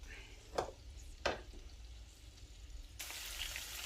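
Sauce of capers frying in a pan for spaghetti alla puttanesca: two soft knocks, then a steady bright sizzle begins about three seconds in and carries on to the end.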